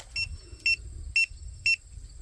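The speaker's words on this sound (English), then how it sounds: "The collar is beeping and the remote is beeping as well." Four short, high electronic beeps at an even pace, about half a second apart, from a Pawious wireless pet fence collar and remote, over low background rumble.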